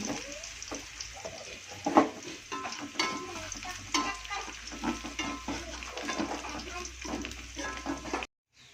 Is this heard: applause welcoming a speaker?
no